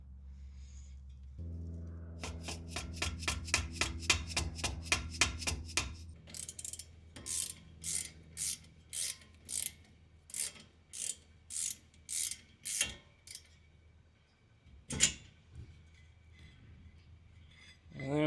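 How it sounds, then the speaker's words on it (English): A ratchet wrench unbolts the brake dust shield on a 2023 VB Subaru WRX during a Brembo six-piston brake upgrade: a fast run of clicks, then slower bursts of ratcheting with pauses and a sharp knock near the end, close up. "We can actually unbolt the dust shield, so I'll show you that."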